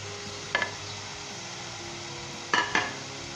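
Green chillies and fresh coriander being stirred into a pumpkin curry in a pan over high heat, with two short scraping clinks of the spoon against the pan over a steady low background.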